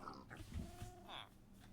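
A Minecraft pig by a village pig pen lets out a few short, low grunts close by, over a faint game background.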